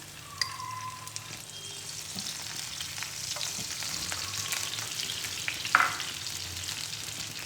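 Daal mash with ginger juliennes frying in desi ghee in a pan, a steady close sizzle and crackle with occasional stirring clinks and scrapes, no voices.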